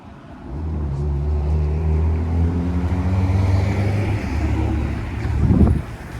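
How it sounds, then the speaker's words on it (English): A city bus on route 113 heading to Kennedy Station passes along Danforth Road in Scarborough, Toronto, its engine rising through shifting gears in a loud, close drone that swells and fades under street ambience. "There's another bus heading to Kennedy Station on the 113."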